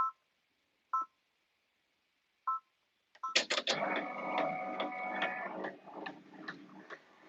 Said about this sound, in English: so I'm gonna start embroidering it.